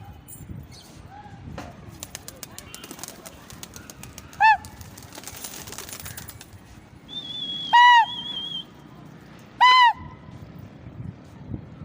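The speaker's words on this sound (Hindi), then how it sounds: "तो फ्रेंड्स ये हमारे कबूतर हैं सारे।" Fighter pigeons flutter and coo nearby with soft rustling, with a few sharp whistling calls standing out clearly against the low background.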